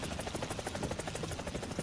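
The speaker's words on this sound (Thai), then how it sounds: "เสียงเสียงเสียงเสียงเสียงเครื่องบิน" An airplane flies overhead in the Roblox horror game Frigid Dusk, a loud, steady engine drone with a rapid pulsing throb that fills the whole clip with no talking.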